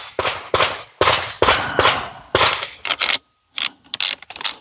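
Sharp, loud clicks and snaps from the ratcheting lock of a Dead Air Sandman S suppressor on a rifle, a rapid uneven run of about a dozen close ratchet clicks with one short pause.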